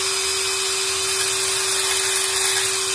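A power tool grinds steadily into a metal tent stake, shaping it into septum jewelry, holding a continuous high-pitched whine with a strong sustained tone throughout, close and loud with no pauses.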